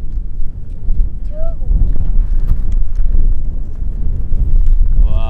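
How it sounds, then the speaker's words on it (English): Wind buffets the microphone atop Mount Pinnibar, a loud, gusty low rumble throughout, with a brief whistle-like tone and a voice audible near the end. "It's a little bit windy."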